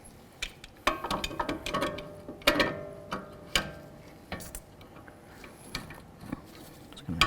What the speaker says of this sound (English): One of the first things we have to do is break free this jam nut.